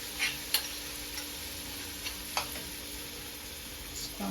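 Two eggs cook with rice in a hot frying pan as they are scrambled, a steady close sizzle punctuated by a few sharp scraping clicks of the utensil against the pan, with no talking.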